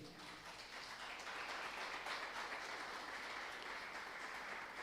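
A church congregation applauds during a sermon, a continuous, fairly faint and even patter of many hands clapping at a distance.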